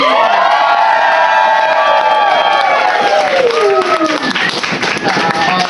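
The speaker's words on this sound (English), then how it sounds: "I'd like you to stomp and cheer" A comedy show audience cheers, shouts and stomps loudly together, a dense roar of voices with high shrieks and clapping that stays strong throughout.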